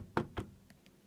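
Two soft, close thuds of a Hoover washing machine door being pushed shut, followed by a couple of faint clicks as it latches.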